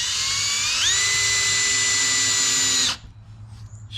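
A power drill drives a 3/4 inch screw in one loud, steady whine lasting about three seconds, pitching up slightly near the start before cutting off abruptly into quiet.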